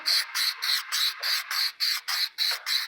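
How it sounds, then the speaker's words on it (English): 3M Super 77 aerosol adhesive hisses from a can in about ten quick, evenly spaced bursts, close and fairly loud. "Alright, we're going to spray our Super 77."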